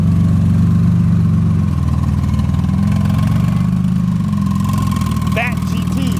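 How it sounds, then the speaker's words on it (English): A Porsche GT2 RS idles close by as it prepares to leave a car show, giving a steady, loud, low engine rumble with a faint blip near the end, while a voice speaks over it. "And then the GT2 RS over here about to leave as well."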